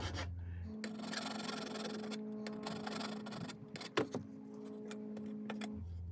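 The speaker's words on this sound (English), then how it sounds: "I'm gonna file off that sharp edge a little bit" Filing off a sharp edge on a metal bed frame hinge in a Winnebago Travato, steady rasping strokes close up over a low background hum, with a brief clunk partway through.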